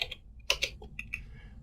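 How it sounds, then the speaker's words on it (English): Typing on a computer keyboard into Notepad, a short run of distinct, crisp key clicks close up in a quiet room. "if I just start typing anything in the Notepad, for example hello world and something like that, it will get written to our keylogger"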